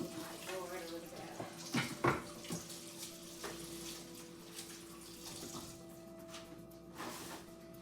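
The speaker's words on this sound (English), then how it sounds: "I'm going to rinse off my board, so I'm going to wash" Tap water runs steadily over a cutting board being rinsed in a home kitchen during paella prep, a close, continuous splashing hiss with a faint hum underneath.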